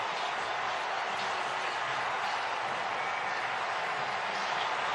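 A stadium crowd at an NFL game roars in a broad, continuous wash of cheering and applause, steady and fairly loud throughout, heard through a broadcast replay.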